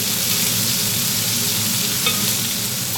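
Pork being mixed in a hot pan for a glögg pork stew, a steady broadband sizzle holding evenly throughout with a faint clink near the middle, no talking.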